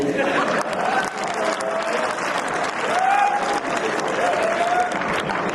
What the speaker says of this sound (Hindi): अभी भी आपकी तालियां कमजोर है